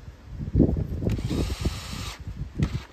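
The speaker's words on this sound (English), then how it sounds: "I forgot this was the drill, so I've put the torque right down." A power drill set to low torque whirs in short bursts, driving screws on a Land Rover Discovery 4 with stuttering, buzzing pulses and brief pauses between runs.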